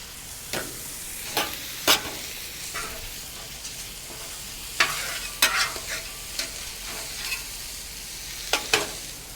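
Chicken fried rice sizzles with sesame oil on a Weber Slate griddle, a steady close frying hiss broken by repeated scraping and stirring strokes of a spatula, with no talking.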